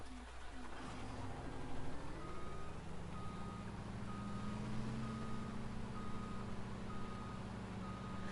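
Reversing beeps from a wheel loader in a farming video game, a steady repeating series of tones sounding under continuous engine rumble with other machinery hum.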